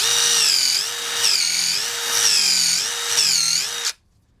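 An impact driver whines in repeated bursts while driving a screw at speed 3, revving up and easing off about four times before cutting out abruptly, close and loud with no voices.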